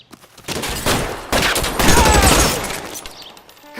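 Gunfire in a video game, a loud close fusillade of overlapping shots in several dense bursts lasting a few seconds, with no voices over it.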